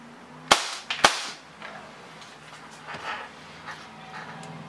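Two sharp shots from a Volante Stratos BBU 1911 airsoft pistol crack out about half a second apart, close and loud, then give way to quiet room noise with faint movement.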